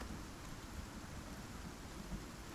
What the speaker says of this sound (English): We are starting to get a little bit of storm exposure here.